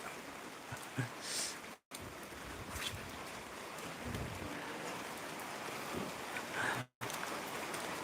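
Continuous hiss of rain falling, steady and enveloping, with two brief dropouts and no voices.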